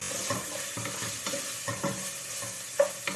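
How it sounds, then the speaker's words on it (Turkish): Meat sautés in olive oil in a pan, a soft steady sizzle punctuated by a regular series of utensil scrapes and taps, the last one a touch sharper. "Etim kavrulmaya başladı benim. Biraz zeytinyağı ekliyorum."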